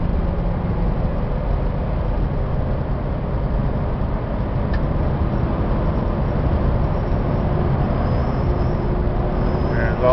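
A Dodge 15-passenger van with a 3-speed automatic and overdrive, low mileage, drones steadily from inside the cab while driving, a continuous loud engine and road rumble with no pauses.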